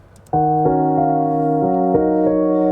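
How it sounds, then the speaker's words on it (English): Electric piano chords played slowly and cleanly, several sustained chords in succession, bright and close with no one speaking. "It's an electric grand piano."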